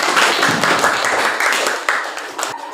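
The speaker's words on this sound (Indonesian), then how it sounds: "Kita beri aplaus untuk kelompok dominan." A classroom group of students claps for a student group during a science lesson, producing brief, fairly loud applause with overlapping hand claps that taper off within a few seconds.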